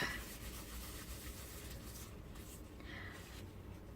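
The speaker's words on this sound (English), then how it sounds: "just buff off where the embossing is" A tissue buffing embossing off a paper card makes a quiet, continuous rubbing and scuffing at close range, with slight changes in pressure and no voices over it.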